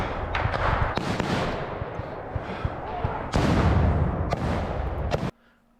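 A live rocket launcher tube fired during a tactical exercise, heard as a sharp loud blast followed by a dense roaring rumble with repeated thuds, cutting off abruptly near the end.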